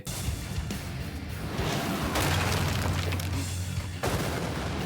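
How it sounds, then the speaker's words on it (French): Loud, dense rumbling anime explosion blasts from One Punch Man with whooshing bursts and a sustained low roar, continuous through the clip without pauses. "Regardez bien, les explosions, en fait, elles restent suspendues dans le temps"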